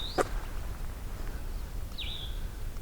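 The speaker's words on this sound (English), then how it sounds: "Cassin's vireo on my left." A Cassin's vireo sings at a meadow pond, giving a short whistled phrase early and a clear, slurred phrase about two seconds later. It sounds moderately near over quiet outdoor background hiss, with no talking.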